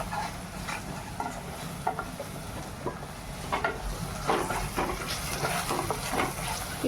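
A spoon stirs cooked, spicy vegetable curry in a pan with scraping and light sizzling, the strokes coming in irregular bursts at close range.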